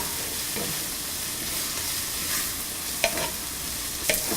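Ginger, garlic and curry leaves sizzle in hot oil in a frying pan for a Kerala-style liver fry. A steady hiss of frying continues throughout, and a few scraping stirs and a clink of the utensil against the pan stand out near the end.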